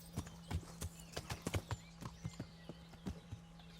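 Horse hooves clip-clop in the medieval video game Kingdom Come: Deliverance as a horse picks its way through brush, an uneven series of soft, distinct hoof thuds over a low steady hum.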